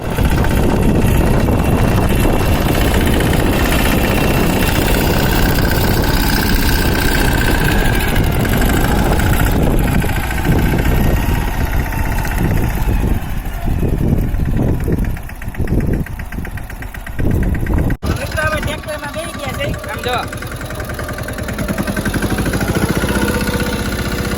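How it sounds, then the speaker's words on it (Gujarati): A tractor engine runs steadily on a farm plot, a loud rumbling idle with knocking vibration that continues throughout and shifts slightly near the end. "વાડીમાં ટ્રેક્ટર આમ આવી ગયું, એન્ટર થઈ ગયું છે."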